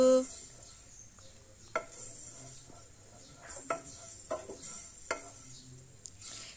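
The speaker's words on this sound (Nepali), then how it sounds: "प्यान तातिसक्यो, मेथी दाना राख्दै छु।" Fenugreek seeds tipped into a hot, dry pan for roasting garlic-pickle spices give a faint, steady crackle with scattered light clicks and scrapes across several seconds.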